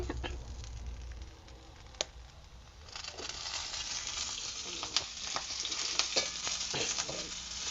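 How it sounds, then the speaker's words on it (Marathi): Green chillies sizzle and spatter steadily in oil on a griddle over a wood-fired stove, a continuous moderate frying hiss with scattered pops and occasional scraping stirs, no voices. "चांगल्या मिरच्या भाजलेल्या आहेत आता तेल जरा सोडून घेते"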